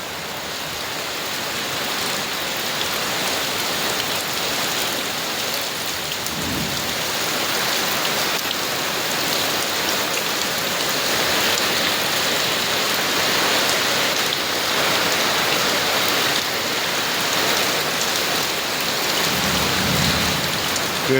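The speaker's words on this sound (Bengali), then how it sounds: "চালে বৃষ্টির আওয়াজ ঝনঝন করতেছে," Steady, heavy rain drumming on a roof during a downpour, a dense, loud, continuous patter lasting the whole stretch, with soft low rumbles suggesting distant thunder.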